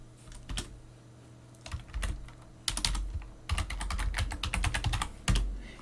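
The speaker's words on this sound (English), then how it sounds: "Here you need to enter the password and you need to press the enter." Keys clatter on a computer keyboard as commands and a password are typed into a terminal, with clustered bursts of rapid clicks separated by short pauses, close and clear, with no talking.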